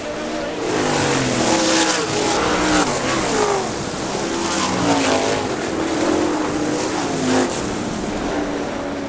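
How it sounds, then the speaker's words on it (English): Race cars roar around a short oval track in a stock car race, a loud continuous drone of several engines rising and falling as they pass close by, with faint crowd or announcer noise beneath. "Dustin Daggett is hooked up and on the move as he gets underneath Robert Heiskin to move into second"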